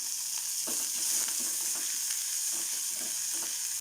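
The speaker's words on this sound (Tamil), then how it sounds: "நறுக்கி வச்சிருக்கிற வெங்காயம் பச்சை மிளகாய் இஞ்சி கருவேப்பிலை சேர்த்து தாளிச்சிக்கலாம்" Onions, green chillies, ginger and curry leaves sizzle as they fry in a pan, with repeated spatula scrapes and stirring taps over a constant hiss; no one speaks.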